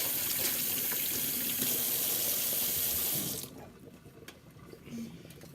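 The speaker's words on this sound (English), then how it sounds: "I have to wash my hands." Hands are washed under a running sink tap, with water pouring steadily and splashing for about three seconds before the flow is shut off, leaving faint drips and soft handling sounds.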